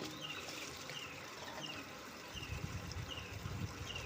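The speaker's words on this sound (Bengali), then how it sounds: "তো এই দেখো, জল ছেড়ে দিয়েছে" Water from a submersible pump supply running steadily in a soft continuous trickle, growing fuller and more splashy partway through as the flow is caught, heard close with faint background noise.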